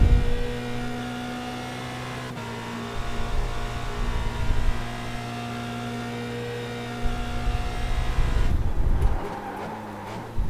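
Formula Renault 2.0 race car engine on a hot lap in iRacing, a steady high-pitched drone with strong harmonics that shifts pitch with gear changes, close and continuous, with a brief rough burst of throttle noise near the end.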